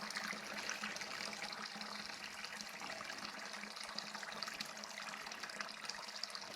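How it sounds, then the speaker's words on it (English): Water runs steadily through beekeeping equipment to rinse it clean, a soft, continuous hiss and splash heard faintly without talk. "I'll run another load of water through there to rinse it off"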